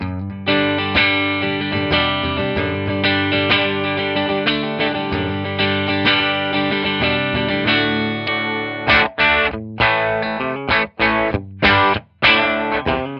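Warm, slightly overdriven Les Paul on the neck pickup through a Gibson GA15-RV amp with a Vintage 30 speaker, rounded, mellow tone; sustained chords and phrases ring continuously, then choppy stabs with brief gaps near the end.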